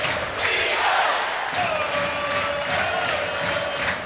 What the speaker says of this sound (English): you'll hear this crowd go wild